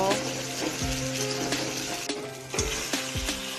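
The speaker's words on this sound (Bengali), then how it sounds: "পেঁয়াজটা লাল লাল করে ভেজে নেব।" Onion frying with bay leaves in a pan, a moderate steady sizzle with a few sharp clinks and scraping stirs, and some background noise mixed in.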